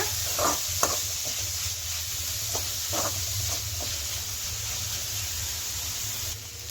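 Boiled vegetables frying in a pan for veg egg fried rice, a soft continuous sizzle and hiss with occasional light stirring knocks, close and without talk.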